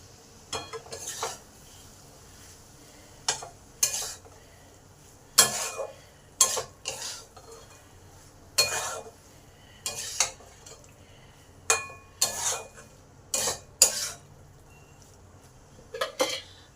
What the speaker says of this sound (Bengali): দিয়ে এই মশলার সাথে একটু ভালোভাবে কষে নেব